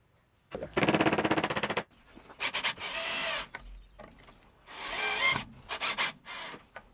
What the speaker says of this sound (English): To cut out this notch, I'm going to use this pull saw